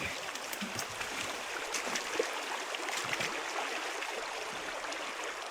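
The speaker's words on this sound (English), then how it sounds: "here's the creek" A creek at a small-scale gold dredging site flows with a steady, even rush of water, moderately close and continuous, with no talking over it.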